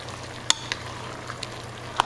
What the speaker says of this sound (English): stir around my ground beef and my mushrooms